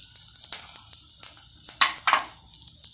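Ginger and chili frying in a pan for a chicken ginger dish, giving a steady close sizzle broken by a few louder stirring scrapes, with no talking.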